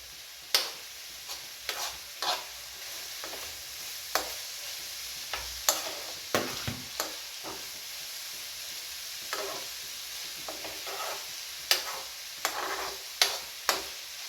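Onions sautéing in a pan with a steady soft sizzle, punctuated by sharp clinks and scrapes of a spoon stirring, close and without talk.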